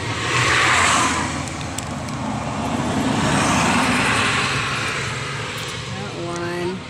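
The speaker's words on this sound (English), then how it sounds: "It's a tricycle." A motorized tricycle passing along a highway, its engine rumble swelling and fading amid steady traffic noise.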